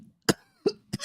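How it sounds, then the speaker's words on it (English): Three sharp coughs spaced apart, close and loud, with brief quiet gaps between them. "I can't even fucking laugh without coughing"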